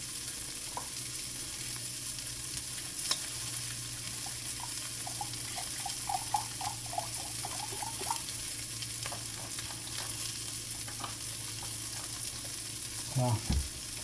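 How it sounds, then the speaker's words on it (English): Beef stock hits a pan of cooking onions, producing a steady, close sizzle and bubbling hiss with light stirring clicks and a brief scrape near the end. "I'm going to put about 1 cup in right now to help deglaze and"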